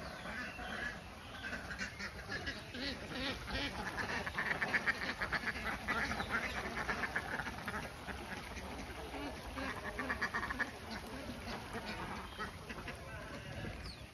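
Khaki Campbell laying ducks quack at a farm pond, a steady chorus of nasal calls running throughout at moderate distance, with someone talking over the birds.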